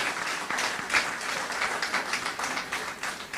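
Audience applause in a lecture hall after a speaker introduction, a steady dense patter of many hands clapping throughout, moderately loud and continuous with no voices on top.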